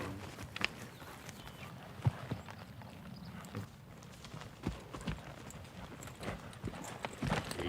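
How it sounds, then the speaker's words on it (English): Horse hooves clip-clopping during a film take while the animal acts up, a loose, uneven run of hoof strikes at moderate distance over low background rumble, with no talk. "she's like handling this horse, like acting up, but it was part of the story"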